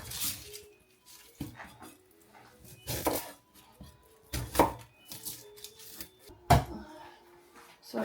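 Knife chopping ingredients for nilagang baka, a Filipino beef soup, on a cutting board, with a series of irregular, close, sharp thuds and a few clattering knocks.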